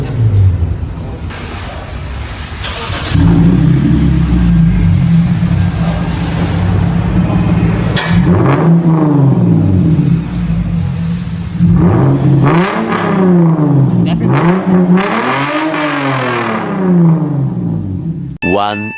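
A car with a Nissan VQ V6 engine is revved repeatedly, loud and close, with a steady idle hum broken by rising and falling blips of rasping exhaust.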